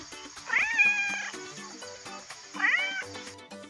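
A male farm cat meows twice, two drawn-out rising calls about two seconds apart, close and clear against a quiet background.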